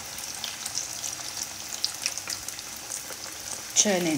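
Potato and cheese kebabs fry over low heat in a pan, a steady close sizzle with light scraping and a louder clatter near the end, while a voice speaks briefly.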